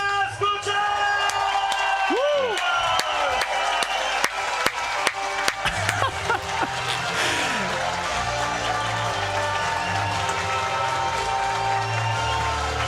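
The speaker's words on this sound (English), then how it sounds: "Listen to the crowd now." A home crowd at an XTERRA Short Track race podium in the Czech Republic cheers loudly and steadily, with whoops, shouts and scattered claps throughout.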